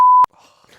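A single steady censor beep, loud and sustained for about a quarter second, then quiet room tone.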